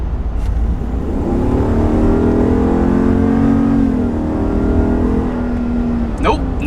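A 2021 RAM 2500 pickup with the Hemi gasoline V8 accelerating hard, the engine note rising steadily and loud from inside the cab for several seconds before easing off, with a faint voice at the end.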